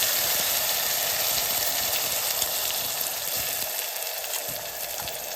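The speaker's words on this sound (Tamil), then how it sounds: "கொஞ்சம் வதங்கட்டும், காமிக்கிறேன்." Ground onion and tomato paste sautéing in a pan for Kerala-style kadala curry, giving a steady, even frying sizzle with a broad hiss that holds throughout and eases slightly toward the end, with no voices.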